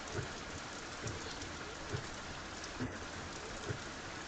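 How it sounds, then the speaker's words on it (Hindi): Heavy rain pours steadily as an unbroken dense hiss, with faint soft thumps recurring at regular intervals and no voices present. "बहुत तेज बारिश हो रही है।"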